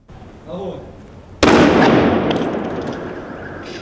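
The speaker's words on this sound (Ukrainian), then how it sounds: "Співробітники вибухотехнічної служби знешкодили її за допомогою гідродинамічної гармати." A bomb disposal water disruptor fires: a sudden loud blast bursts out and decays into a long rushing, splashing wash, following a moment of faint background murmur, in Chernihiv.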